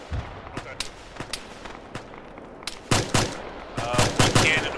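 Gunfire in the Arma military video game: scattered single cracks at varying distances, then heavier close bursts and overlapping shots building toward the end, over a quiet outdoor background.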